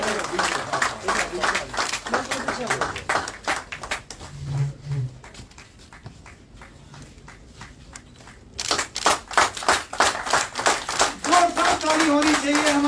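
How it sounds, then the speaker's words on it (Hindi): At a BJP party workshop at the Jammu headquarters, an audience claps in rhythmic bursts, fades, then surges loudly again, while someone speaks over the clapping. "जोरदार तालियों के साथ परिहार जी का सम्मान करें।"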